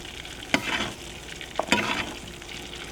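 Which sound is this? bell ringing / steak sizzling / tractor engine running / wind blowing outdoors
steak sizzling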